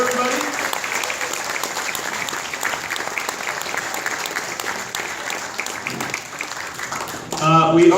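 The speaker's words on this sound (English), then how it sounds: "So I'd like to give a round of applause for her, everybody" Wedding guests give a sustained round of applause at a wedding reception, many hands clapping loudly and steadily, with faint voices mixed in; near the end the clapping gives way to a nearby voice.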